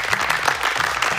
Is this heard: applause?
yes